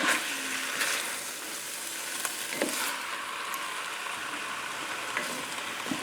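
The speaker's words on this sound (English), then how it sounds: "Raise the flame higher, real high, to just get this sweating up the vegetables and the meats in there." Pork, black beans and vegetables sizzle and fry together in a single pot over a high flame, giving a steady, loud crackling hiss with occasional stirring sounds and no talk.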